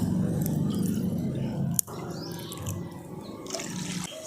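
Water is poured and measured out by the bowl for making pitha, a steady close splashing trickle with a sharp clink partway through, then softer pouring.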